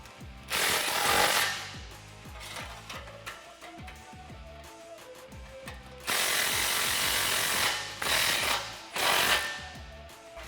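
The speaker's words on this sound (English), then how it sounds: "rotate the clamps into position and tighten them down" Exhaust clamps are tightened with power tools on a 2018-2020 Mustang GT Corsa Xtreme cat-back exhaust, giving several loud, rattling bursts of impact wrenching with short pauses between them.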